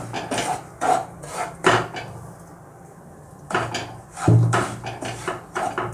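Moong dal flour roasting in ghee in a pan, stirred with a spoon that scrapes and knocks against the metal in irregular close bursts, with a short quiet gap partway through.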